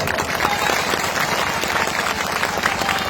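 Steady crowd applause at a political speech rally in Begusarai, dense clapping filling the whole stretch at a loud, even level.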